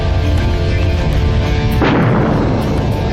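A loud, deep blast for a solar eruption erupts about two seconds in, a sharp broadband burst decaying into a rumbling roar over a dense, continuous low drone.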